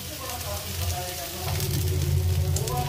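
Spices including turmeric, Kashmiri chilli, cumin and coriander powder frying with ginger in a pan for Bengali pumpkin curry, a steady close sizzle that grows slightly louder partway through, with a stirring spoon scraping now and then.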